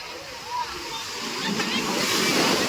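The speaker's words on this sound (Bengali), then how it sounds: "দেখো ঢেউ দেখো কোথায় ঢেউ উঠে যাচ্ছে এদিকে জলে ঢেউ উঠছে" Sea waves surge at Puri beach, and water rushes back down the shore in a loud, swelling wash with a voice speaking over it.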